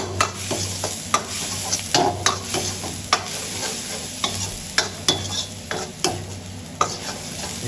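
Garlic and onion sizzle in hot oil for Mizo-style chilli pork dry, with a steady fry hiss broken by repeated sharp scrapes and clacks of a spatula stirring the pan, close and fairly loud.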